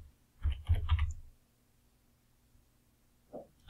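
A short burst of clicks on a computer keyboard, several quick keystrokes in a row, then a pause and one more soft tap, close and quiet with no talk.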